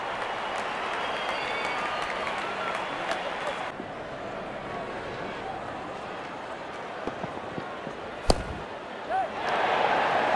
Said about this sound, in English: Crowd on their feet to cheer the moment.